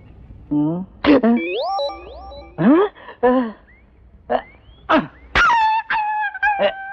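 A dog is chased away in a 1994 Tamil film scene, with loud, sharp yelping cries that come in quick irregular bursts and pitched sweeps close by.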